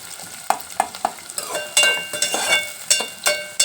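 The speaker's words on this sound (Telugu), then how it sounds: "ఉల్లిపాయలు పచ్చిమిరకాయలు బాగా వేగాల" Onions and green chillies frying in a pan for an ivy gourd and egg curry, with a steady sizzle broken by sharp spatula scrapes and stirring knocks at close range, no voices.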